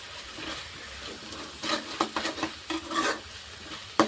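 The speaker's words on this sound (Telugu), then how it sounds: "వేసి ఒకసారి కలిపేస్తున్నాం" A spoon stirs turmeric through fish curry in a pan, scraping and clattering in short uneven bursts over a faint sizzle, with a single sharp knock at the end.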